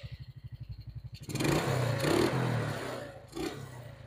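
A Suzuki Smash motorcycle engine idles with a steady pulsing beat, then is started again, catching with a louder, rougher mechanical roar that swells and settles, close by.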